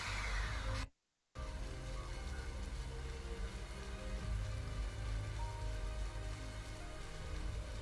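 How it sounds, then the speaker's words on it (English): Steady rain falls in the Sonic Frontiers video game, a dense continuous hiss broken by a brief dropout of silence near the start. "The rain and grass effects look alright."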